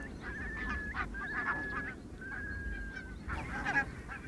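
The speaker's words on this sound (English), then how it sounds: "Barnacle geese mow their way across a field on the RSPB reserve" Barnacle geese in a field on a Scottish island nature reserve give repeated short honks, several birds calling over one another at moderate distance against a low, steady outdoor background.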